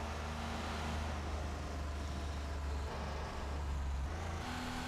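Porsche 911 Turbo engine in Need for Speed Porsche Unleashed, a steady loud drone with low harmonics that shift slightly as revs change, continuous throughout without talk.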